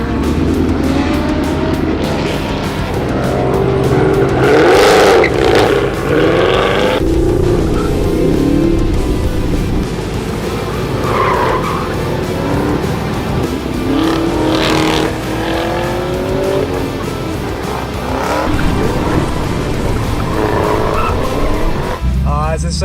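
Supercharged Chevrolet Silverado truck racing on the Texas Motor Speedway oval, engine roaring steadily and loud throughout with tire noise and passing cars, people talking over it.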